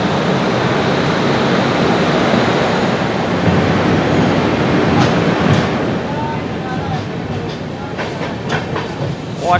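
A Sairang to Kolkata train rolls slowly through a pitch-dark tunnel, a loud, continuous rumble and rattle of wheels and carriages that fills the whole stretch with no break.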